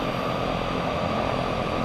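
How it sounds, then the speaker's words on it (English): A propeller aircraft engine in the X-Plane flight simulator drones as a steady, dense roar with broad airy noise, constant and loud without variation. "I have to admit, the sound is brilliant in X-Plane"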